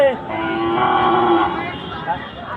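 Sahiwal cattle low with a long, drawn-out moo at the Panchbibi cattle market, heard fairly close and steady, with a shorter moo near the end over faint market murmur.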